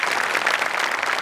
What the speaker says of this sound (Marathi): अरुणदा, जोरदार टाळ्या त्यांच्यासाठी